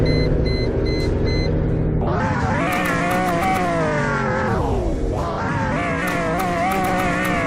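A roadster convertible's engine in the Roblox Greenville game idles, then revs up hard around two seconds, with rising and falling harmonic whines as it climbs, dips near five seconds and surges again, loud and alone.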